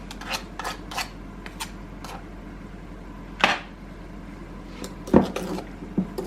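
Wooden spoon scraping butter off in a mixing bowl while baking a sponge cake: soft, close scrapes and a few sharper knocks and clinks against the bowl.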